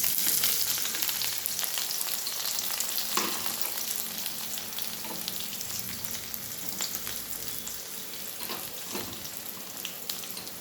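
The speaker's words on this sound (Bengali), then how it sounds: "এবার এর মধ্যে দিয়ে দেবো কুচি করে কেটে রাখা পেঁয়াজগুলো" Chopped onions frying in hot oil with cumin, a dense steady sizzle with occasional stirring ticks, close and continuous without any talking.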